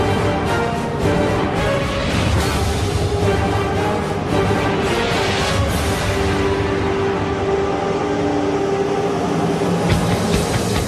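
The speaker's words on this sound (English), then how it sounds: "a subterranean work train that works throughout the day, 8 stories deep into the heart of New York's bedrock" A subterranean work train rumbles through a tunnel eight stories deep in New York bedrock, beneath the East River, with a loud, continuous roar and rattle of wheels and cars throughout.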